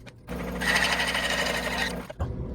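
A Hegner scroll saw makes a short, straight one-inch cut, giving a steady buzzing, rapid reciprocating drone that runs for about a second and a half close by, then cuts off, with no talking.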